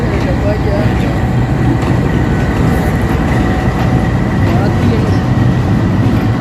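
A train moving through Lahore railway station, a steady loud rumble of rolling wagons with faint clickety-clack under continuous station noise and some talk.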